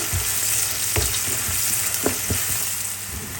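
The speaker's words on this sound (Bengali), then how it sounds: "একটু নেড়ে চেড়ে হালকা একটু ভেজে নিতে হবে।" A large onion sizzling in hot oil in a pan while being stirred, with steady close frying hiss broken by a few sharp scraping stirs.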